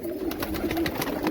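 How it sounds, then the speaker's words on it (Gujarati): Domestic pigeons kept for pigeon flying coo in low, steady, throaty tones up close while their chicks are being fed. "કબૂતરીના બચ્ચાને કેવી રીતના ચણાવી"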